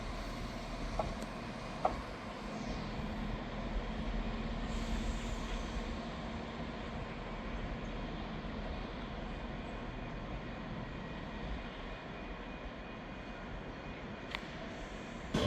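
A ScotRail train from Tweedbank pulls into Edinburgh Waverley, a steady low rumble of wheels and engine filling the station, with faint squeals and a brief hiss near the end, moderately distant and constant throughout.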